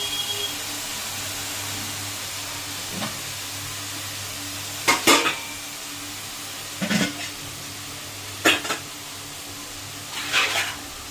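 Ingredients hissing in a hot pan, a steady low sizzle broken by several short, sharp clattering bursts of utensil or lid contact.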